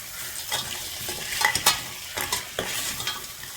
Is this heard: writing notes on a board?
no